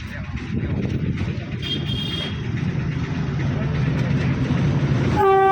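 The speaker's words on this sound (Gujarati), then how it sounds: "ટ્રેન આવી ગઈ છે, ચેક કરો." A train pulls into a station during the Mahashivratri fair crowds in Junagadh, its steady rumble and wheel noise filling the scene under a murmur of people, with a horn-like tone sounding at the very end.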